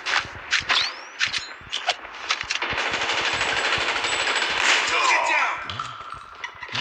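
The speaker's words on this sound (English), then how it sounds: "I'm using auto fire because I cannot use the main fire yet" Automatic gunfire in the mobile shooter Call of Duty Mobile, rapid bursts of close, loud shots with a long sustained volley midway, mixed with game effects and a player talking over it.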